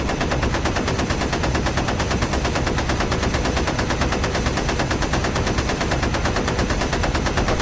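Dense, unbroken machine-gun fire from a B-17's waist and ball turret guns in the game B-17: Queen of the Skies, loud and continuous from start to finish.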